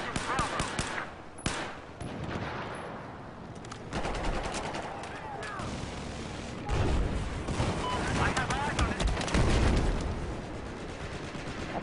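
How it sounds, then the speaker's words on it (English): Rapid automatic gunfire in Battlefield 4, dense bursts of fast shots crackling over booms and battlefield noise, loud and close, with someone briefly talking through parts of it. "This gun is so rapid fire, it's impossible."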